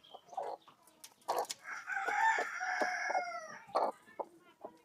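Several native desi hens cluck and squawk in bursts, with a longer drawn-out call rising in the middle; close and fairly loud, no talking.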